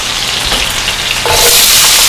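Onions hit hot olive oil in a pan, bursting into a loud, steady sizzle that swells and brightens midway and holds close and continuous with no talking.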